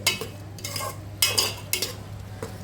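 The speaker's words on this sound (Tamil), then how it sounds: "மட்டன் சேர்த்த பிறகு கொஞ்சம் பொறுமையாக மிக்ஸ் பண்ணி விடுங்க" A spoon gently folds cooked mutton through Kongu-style white mutton biryani in a pot, giving four soft scraping strokes with a faint steady hum underneath, close and unhurried, with no talking.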